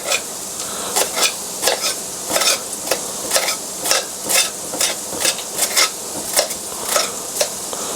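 Onions stirred around a hot pan while frying chicken and okra, sizzling steadily beneath a run of sharp, rhythmic scraping strokes, close and fairly loud, with no talking.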